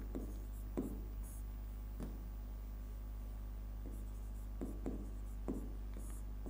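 Chalk or a marker strikes and scrapes a board during a physics lesson on the electric field of a dipole, landing in short separate taps and strokes at an uneven pace over a steady low hum, with no talk.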